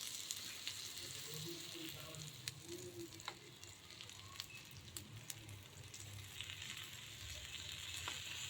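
Dosa frying in ghee on a hot pan, a steady soft sizzle with faint crackles running evenly and close throughout.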